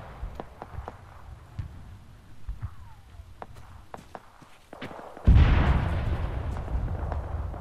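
Distant battlefield explosions in Arma 3 sound as scattered sharp thumps and crackles, then one much louder blast that leaves a long rumbling tail.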